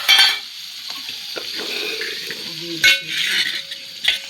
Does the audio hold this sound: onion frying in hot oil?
yes